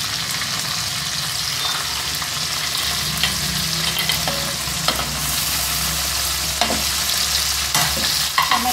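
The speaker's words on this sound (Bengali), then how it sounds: "এখন আমি দিয়ে দেব টমেটোগুলো।" Tomatoes frying in oil with garlic paste, stirred steadily in a pan, giving a continuous close sizzle with scraping stirs and small clinks throughout, no voices.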